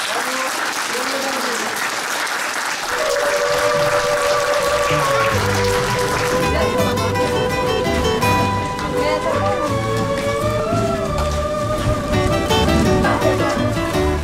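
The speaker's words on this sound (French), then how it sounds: "Je pense qu'on peut tous s'applaudir." Loud, sustained applause from a group celebrating a week-long twinning exchange in Bouliac, continuing unbroken as music comes in underneath after a few seconds.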